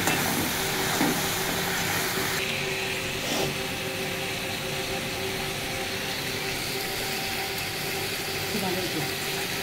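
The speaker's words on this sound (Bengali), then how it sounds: "আর এটা ভালো করে লাল লাল করে ভেজে নেব" Live crab with turmeric and salt fries in a pan in a village-style kitchen, giving a steady close sizzle and hiss with faint stirring clatter throughout.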